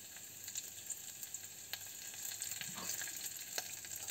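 Urad dal, curry leaves and a dry red chilli fry in hot coconut oil, a soft continuous sizzle with scattered crackles and pops and an occasional stir, fairly quiet and close.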